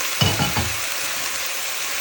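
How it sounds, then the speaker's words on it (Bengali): Bitter gourd with potato and chili fries in a pan, giving a close, continuous sizzle with a couple of short clattering stirs near the start. "আমি একটু ভেজে নিচ্ছি"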